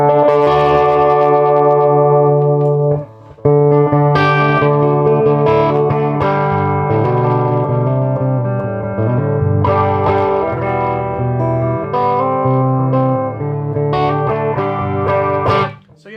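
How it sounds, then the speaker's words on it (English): Electric guitar played through the bass channel of a 1964 Fender Bassman, a continuous stream of full, bass-heavy chords and notes, loud and close, with one brief pause early on and no talking. "It's made for bass, so it doesn't sound quite right on a guitar."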